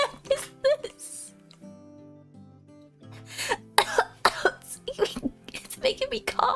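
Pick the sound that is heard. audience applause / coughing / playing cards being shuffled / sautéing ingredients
coughing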